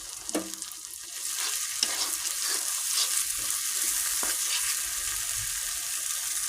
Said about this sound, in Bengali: মশলাটা দিয়ে দিব এটাকেও সামান্যক্ষণ কষাবো